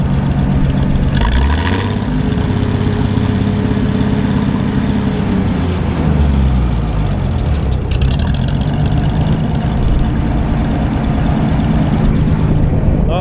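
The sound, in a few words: old Gleaner A combine engine idling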